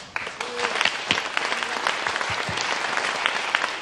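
Applause from a crowd at a political talk event, a sustained dense patter of many hands clapping at moderate volume, steady throughout with a few louder bursts and faint voices underneath.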